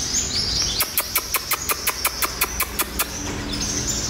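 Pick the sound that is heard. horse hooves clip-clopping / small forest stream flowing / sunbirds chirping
sunbirds chirping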